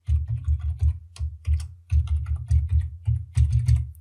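A password being typed on a computer keyboard, steady rapid clacking keystrokes in quick bursts with brief pauses, close and fairly loud with no voice.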